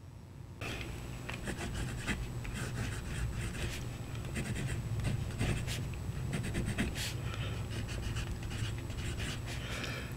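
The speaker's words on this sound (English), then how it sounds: "we'll look at that writing now" Kaigelu 316 fountain pen with a medium nib writes on paper in quiet, close scratchy strokes and small taps that continue steadily after a brief silent start, with no talking.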